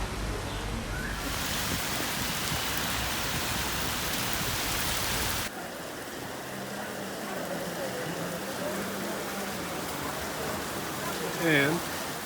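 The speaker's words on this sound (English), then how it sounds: "The rain continues." Rain pours in Athens as a dense, steady hiss that drops noticeably quieter about halfway through, with a faint, brief voice-like sound near the end.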